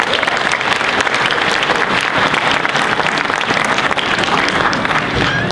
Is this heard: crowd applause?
yes